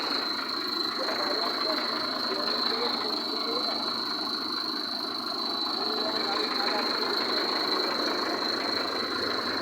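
A 2015 Ashok Leyland 1613 Taurus truck with a newly rebuilt engine idles steadily and loudly throughout, a constant near drone with a faint whine riding over it.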